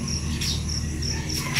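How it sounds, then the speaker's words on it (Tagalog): A frog hidden inside a PVC pipe calls steadily, giving a continuous shrill, insect-like trill with brief louder chirping bursts every second or so, close and without any talk. "palaka na nagtatago dyan sa may PVC. Maingay."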